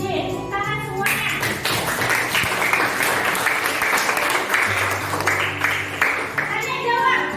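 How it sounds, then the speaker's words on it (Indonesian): A school class of seventh-grade students applauding in a classroom, a burst of scattered, fairly close hand claps amid children's voices, with a teacher's voice before and after. "Tepuk tangan semuanya."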